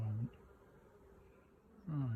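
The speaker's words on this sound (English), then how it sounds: "Flying bees are coming back to the entrance" Faint, low buzzing of honeybees flying back to a hive entrance, swelling near the start and again at the end, with a quiet hum in between.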